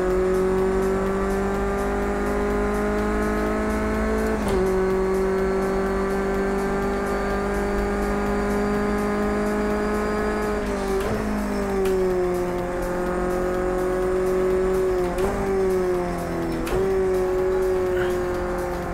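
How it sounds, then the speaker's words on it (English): Front-wheel-drive race car in the racing game Project Cars 2, a loud, sustained engine drone with brief dips at gear shifts and occasional tire squeal, while people talk beneath it. "with this car, who was talking about oversteer, David C, because it's front wheel drive"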